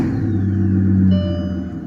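A 2004 Mercedes S600 with its rear exhaust cut off runs with a deep, loud, steady engine rumble that swells slightly around the middle, heard alone up close.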